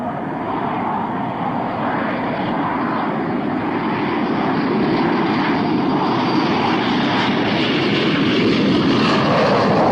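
Steady broadband roar of a fixed-wing aircraft engine at an international airport in Abu Dhabi, loud and continuous throughout with no voices.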